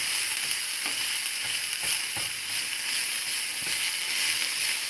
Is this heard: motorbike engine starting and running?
no